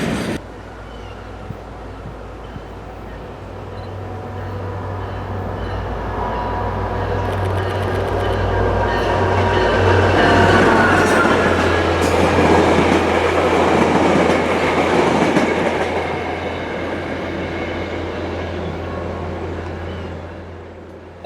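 A CSX freight train rolls past in Miami, Florida, its rumble and wheel clatter swelling to a loud peak midway, then slowly easing off, with no voices.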